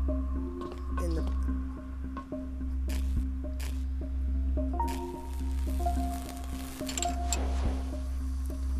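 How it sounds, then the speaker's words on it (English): Water drips in the puzzle game The Gardens Between: a run of small, irregular wet plinks and clicks over a soft, sustained musical tone, fairly close and quiet. "It's actually dripping."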